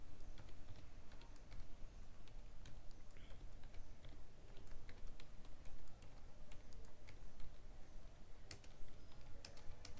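Keys on a computer keyboard tapped in a steady run of small, crisp clicks while H1 is entered into HTML code, fairly close, alone over a soft background hum.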